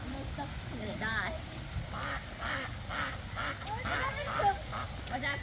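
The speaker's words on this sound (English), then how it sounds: "The ducks are following us." Ducks quacking and honking at a nature center, following a family on a walk, with repeated calls over outdoor rumble and people talking nearby.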